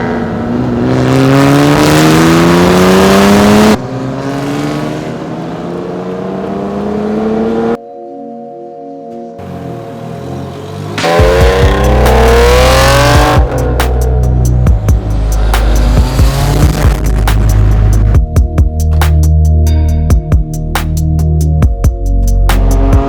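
A very loud car with its springs removed drives and revs hard, engine pitch sweeping up and down through repeated gear changes, with harsh, rattling, close-up roar dominating throughout.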